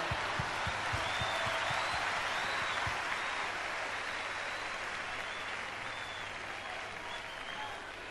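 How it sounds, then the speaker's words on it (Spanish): A concert audience gives the musicians a sustained round of applause, dense even clapping mixed with faint crowd noise that slowly fades over several seconds. "quiero pedirles un aplauso para ellos también"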